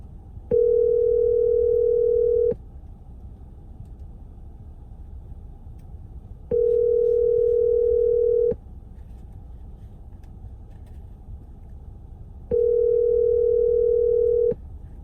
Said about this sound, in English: Please leave a message after the tone your call.